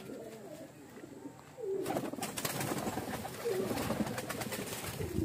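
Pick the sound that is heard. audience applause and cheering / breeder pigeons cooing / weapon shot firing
breeder pigeons cooing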